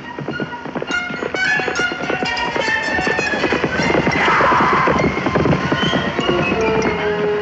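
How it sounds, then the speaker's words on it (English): Wild horses galloping in a roundup, dense rapid hoofbeats drumming continuously and loudly throughout, with a busy, clattering texture and no talk. "Get that horse!"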